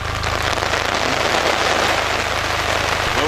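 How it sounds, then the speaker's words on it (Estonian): Steady rain falls, a dense, continuous hiss of drops spattering on surfaces close by, unbroken and fairly loud with no voices over it. "Sajab, kogu aeg sajab"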